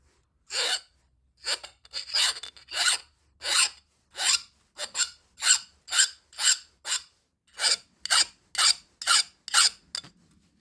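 A file rasps across hardened chisel steel in about fifteen separate, evenly spaced strokes, each a short harsh scrape heard close and alone against silence.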